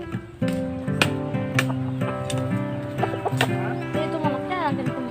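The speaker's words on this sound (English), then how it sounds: "chicken." Chickens cluck and call from the yard behind a house near a tamarind tree, several overlapping bird calls at moderate distance alongside faint voices.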